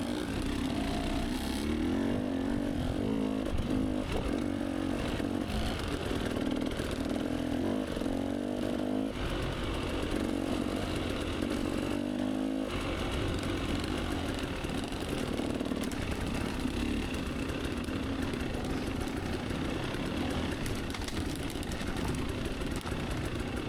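A dirt bike engine drones steadily on a mountain ride, a continuous gritty mid-pitched rumble that shifts tone as the throttle changes, loud and close throughout with no pauses.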